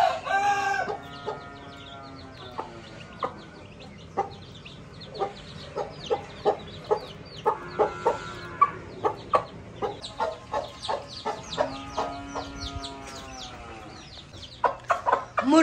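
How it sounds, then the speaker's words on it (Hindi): A hen clucks with her chicks beside her, making short repeated clucks and occasional drawn-out calls, with a rooster crowing once or twice and faint peeping scattered in between. "देखे चिक्स कितने ज्यादा प्यारे लग रहे हैं और साथ मुर्गी।"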